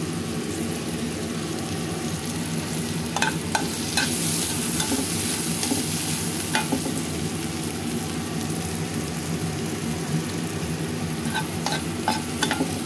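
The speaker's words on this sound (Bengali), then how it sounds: "চিংড়ি মাছটা একটু ভাজা ভাজা করে নিয়ে আমি গ্যাটকল পাতাটাও ভেজে নেব" Shrimp seasoned with turmeric and salt sizzle steadily in a hot pan for the whole stretch, with occasional light scrapes and clinks of stirring over the constant frying hiss.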